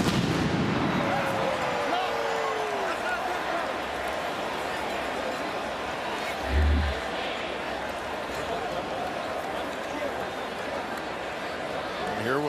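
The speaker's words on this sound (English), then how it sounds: "Premature cannon fire here at BMO Field." A ceremonial cannon fires early at BMO Field during a CFL football game between Ottawa and Toronto, a single deep boom halfway through, beneath the steady roar of a large stadium crowd, with a commentator talking.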